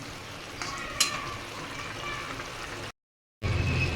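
Paneer frying in a pan gives a moderate sizzle, with scraping stirring strokes and one sharp clink near the start. There is a brief dropout of silence before the sizzle returns, louder, at the end.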